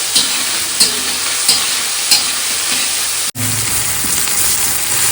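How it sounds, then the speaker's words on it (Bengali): Chilli, tomato and ginger frying with spices in a pan, a steady loud sizzle throughout with regular stirring scrapes every half second or so, no voices. "কাঁচা লঙ্কা টমেটো তারপর দিলাম আদা এবার নাড়িয়ে দেবো মশলা দিয়ে"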